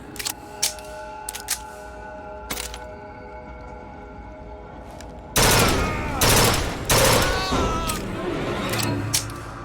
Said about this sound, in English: Nine bullets to take that guy down.